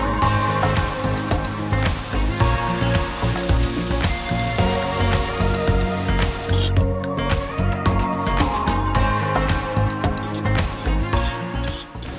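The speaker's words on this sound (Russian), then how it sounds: "Обжарим лук 2-3 минуты." Onions fry in vegetable oil in a kazan, giving a steady, dense, crackling sizzle that continues alone throughout.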